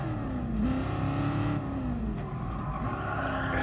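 A 1965 Shelby Cobra engine drones steadily through a curve on a race track, its pitch dipping and rising as the car slows into the bend and accelerates out, loud and continuous.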